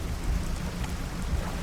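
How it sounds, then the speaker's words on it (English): A thunderstorm in the fishing video game Dredge: steady rain hisses while deep, low thunder rumbles rise and fall underneath, with no voices. "It's raining after all."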